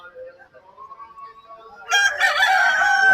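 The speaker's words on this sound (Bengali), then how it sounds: "এই যে মোরগ দেখেন, এগুলো এখনো ঝুড়িতে আছে।" Near the end of a calmer passage of voices and bird calls at a busy poultry market selling native chickens and ducks, a rooster lets out a loud, close crow that carries on to the close.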